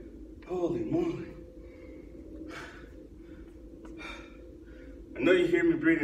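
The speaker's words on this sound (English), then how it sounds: "I know you hear me breathing heavy." Heavy, ragged breathing from a person after a workout of cleans, deadlifts and ball slams, with gasps and puffs near the start and a loud burst of panting at the end, close to the microphone.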